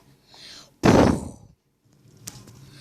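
One loud, sharp boom from an iftar cannon in Minecraft, decaying over about half a second, with quieter game sounds before and after.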